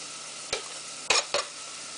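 Chopped garlic in olive oil in a saucepan, heard as three quick bursts of sizzle and stirring scrape over a quiet hiss, close by, with no talking.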